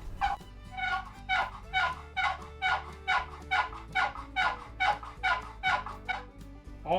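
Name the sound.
homemade turkey call being played, imitating turkey gobble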